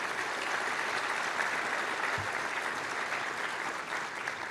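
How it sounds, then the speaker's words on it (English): Steady, dense applause from a breakfast event audience thanking sponsors, a continuous even patter of many hands clapping at close range, with no voices standing out. "A big round of applause for all of those sponsors,"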